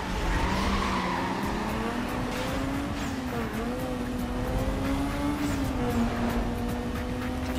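A race car in Need for Speed Most Wanted takes a corner on an old circuit, its engine droning loudly and steadily while the tires squeal in long, wavering whines throughout.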